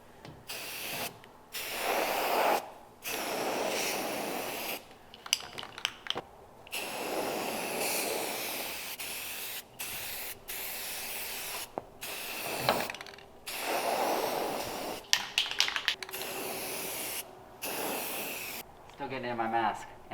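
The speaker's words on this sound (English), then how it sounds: "so now I'm just gonna apply my Rust-Oleum primer." Rust-Oleum primer sprays from a can onto the floor of a Ford Econoline van conversion. Short hissing bursts repeat with brief pauses between them, and a person talks in the gaps.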